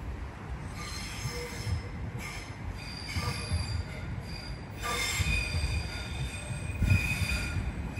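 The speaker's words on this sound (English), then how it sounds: "soon to come round the curve now will be a terminating Greater Anglia service from Cambridge" A Greater Anglia train terminating from Cambridge squeals round the curve into Ipswich, its wheels giving a steady high metallic screech with faint tonal overtones over a continuous rumble of railcars rolling past, sustained and moderately near throughout.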